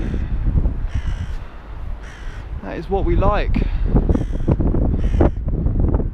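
A crow caws several times in a short sequence, loud and close over wind noise, while a person speaks briefly.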